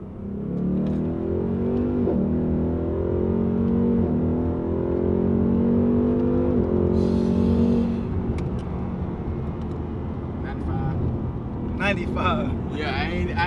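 A Ford Mustang Foxbody drag car pulls hard through second gear, a loud steady engine drone rising in pitch for about eight seconds before easing off, with people talking and reacting over the tail end.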